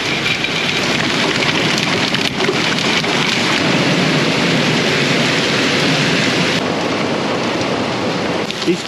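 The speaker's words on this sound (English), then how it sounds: "These kind of rains usually wash out roads." Heavy August summer rain pours down outdoors in a steady, loud, dense roar with low rumbling underneath, hissing evenly for nearly nine seconds with no talk.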